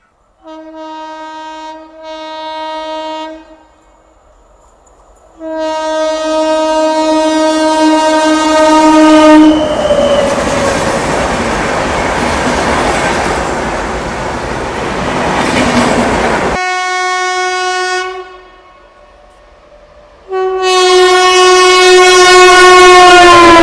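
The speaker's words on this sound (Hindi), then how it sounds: "अब की बार आ रही है अजीमाबाद एक्सप्रेस। यह है अहमदाबाद पटना।" Azimabad Express running Ahmedabad to Patna sounds its horn in long sustained blasts, then passes loudly with rushing wheel and carriage noise before more horn blasts close in.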